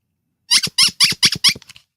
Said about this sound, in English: This is a 1957 made in France postcard, and it's a squeaker.